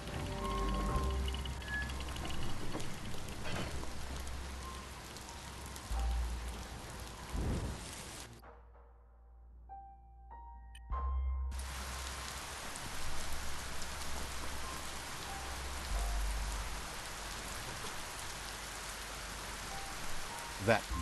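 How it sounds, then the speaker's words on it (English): Steady rainfall with distant rumbles of thunder fills a Biomutant game scene, dropping out for a few seconds midway with faint chiming tones before the rain and low thunder resume at moderate volume. "Better be rain."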